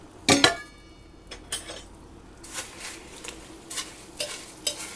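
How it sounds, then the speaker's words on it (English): Freeze-dried mixed diced peppers and onions are mashed down in a pot, giving a string of scraping, stirring clacks and crunches at an uneven rhythm, close and fairly quiet. "And mash it all down in there."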